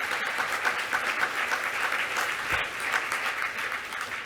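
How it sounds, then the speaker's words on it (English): A large assembly audience applauds steadily and densely for several seconds, a continuous crowd clapping that fills the room without pause. "Give him a round of applause."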